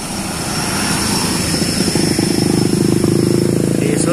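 A metropolitan bus drives past on a downhill stretch, its engine rumble building to a loud, pulsing drone as it nears and passes close by.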